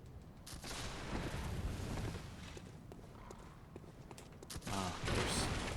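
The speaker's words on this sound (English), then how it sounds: "we have two shooting at me" Enemy gunshots in Bloodborne, a series of sharp bangs and heavy booms over a dense, rumbling background of game noise, with a louder cluster near the end.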